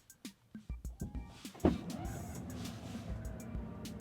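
A Tesla's power trunk opens from an aftermarket button: a string of quick clicks in a steady rhythm, then a sharp thunk and a low motor hum that lingers as the lid lifts, heard up close and quiet.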